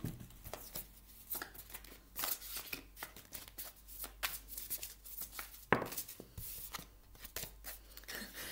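Tarot cards slid and shuffled across a table in a quiet room, soft papery swishes and taps repeating at an irregular pace, close and fairly faint, with no voices.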